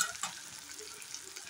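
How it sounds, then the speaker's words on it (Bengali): Onions fry in a pan with a soft, steady sizzle, fairly quiet and continuous, with a faint clink or stir near the start. "হালকা ভেজে নেব।"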